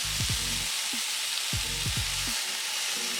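Lamb rump kebab frying in a pan, a steady soft sizzle with faint intermittent low thumps or scrapes as it cooks.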